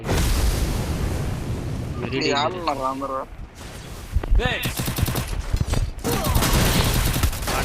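Land mine explosion in a battle royale video game, set among bursts of gunfire and rumbling blasts, with players talking excitedly over the noisy game audio.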